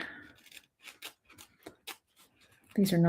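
Several small crisp snips of scissors cutting ribbon, spaced irregularly, close by, with a voice starting to talk at the end.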